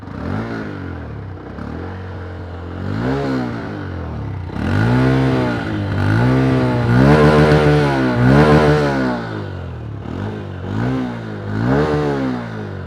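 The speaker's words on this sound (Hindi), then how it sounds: "ये आइडलिंग में जो है इस तरीके का एग्जॉस्ट नोट देखने को मिलता है। प्लस मैं थोड़ा सा अगर रेव करता हूँ" A Honda CB125 Hornet motorcycle's exhaust first idles in a steady low burble. It then rises into several short revs that climb and fall in pitch, loud and close, with no speech.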